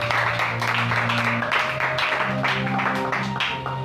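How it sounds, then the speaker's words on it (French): A church congregation bursts into sustained applause and cheering, with dense clapping rolling on throughout and a steady sung or droning tone underneath. "Nous acclamons plus fort pour Jésus."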